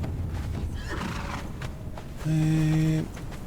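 A horse whinnies loudly near the end in the game Conan Exiles, with hoofbeats and game-like ambient sounds beforehand.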